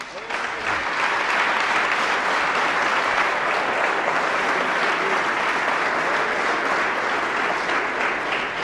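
A church congregation claps steadily and loudly, sustained applause filling the room without pause.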